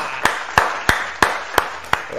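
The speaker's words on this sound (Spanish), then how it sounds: "Un aplauso para Luca." An audience claps for Luca in a steady rhythm: about seven sharp, evenly spaced claps at a moderate, close, fairly loud level, with no other sound between them.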